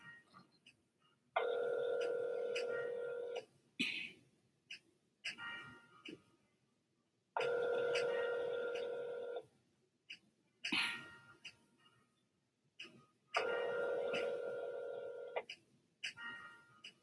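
Telephone ringback tone heard as a call is transferred, three long evenly spaced rings with silent gaps, interspersed with faint coughs or throat clearing.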